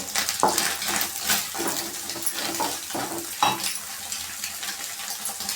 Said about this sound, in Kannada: ಮೊಟ್ಟೆ ಚೆನ್ನಾಗಿ ಫ್ರೈ ಮಾಡ್ಕೊಳ್ಳೋಣ